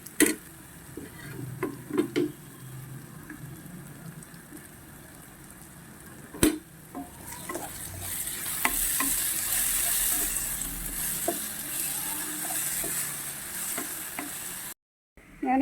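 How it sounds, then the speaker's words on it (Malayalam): Chopped onions with salt sauté in a pan, stirred now and then, giving a steady sizzle that swells into a louder hiss partway through, with occasional scrapes and taps of a spoon against the pan. "എന്നിട്ട് നന്നായിട്ടൊന്ന് വഴറ്റണം. നമ്മൾ ഉള്ളി അരിഞ്ഞതിൽ ഉപ്പ് ചേർത്ത് വേവിക്കുമ്പോൾ ഉള്ളി പെട്ടെന്ന് മുരിഞ്ഞ് കിട്ടും കേട്ടോ."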